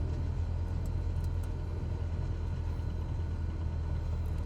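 Reims-built Cessna C172 light aircraft in Flight Simulator 2020 taxiing on grass with a little power, a steady low engine drone and propeller hum held at constant RPM throughout, with no talk.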